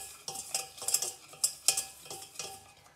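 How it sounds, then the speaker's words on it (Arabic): A spoon stirs cake batter ingredients, with sugar, in a bowl, giving irregular scraping and tapping strokes against the bowl, close and moderately loud, with no voices. "وغنضيف ثلاثه المعالق ديال سنيده ونحرك هاد المكونات مزيان"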